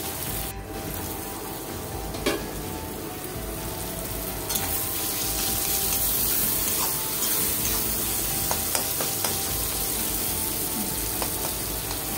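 Chopped tomatoes with salt soften in a pan for a home-cooked dinner, giving a steady, even sizzle with faint stirring scrapes and occasional clicks, close and continuous with no talking.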